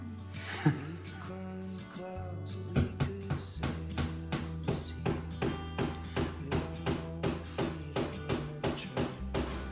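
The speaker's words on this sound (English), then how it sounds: "Hammer." Repeated hammer blows strike in a steady rhythm, sharp and close, about a dozen hits following a few scattered knocks at the start.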